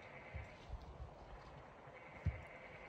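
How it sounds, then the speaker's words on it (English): A billy goat frog calls faintly at night in southern Arizona, a few short bleating bursts scattered over a quiet background. "We hear another billy goat frog."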